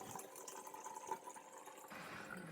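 Fruited mint tea being poured into a glass pitcher, a faint, steady trickle of liquid with soft splashing that thickens briefly near the end.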